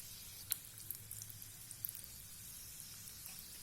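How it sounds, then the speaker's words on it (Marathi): Sambharwadi, the Vidarbha stuffed rolls, frying in hot oil, giving a faint, steady sizzling hiss with a few small scattered pops and crackles and no voices. "आणि छान गोल्डन ब्राऊन होईपर्यंत आपल्याला ह्या तळून घ्यायच्या आहे"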